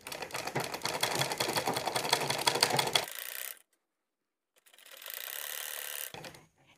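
A sewing machine stitches elastic onto a salwar in two steady mechanical runs of whirring and clatter, separated by a brief silent pause, heard up close with no talking.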